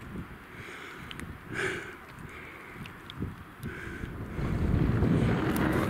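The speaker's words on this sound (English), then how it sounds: "Well, there's the wind." Wind blows across a wild camp on Castle Crag, a steady gusty rush buffeting the microphone that swells louder toward the end, with faint scattered knocks and no talk.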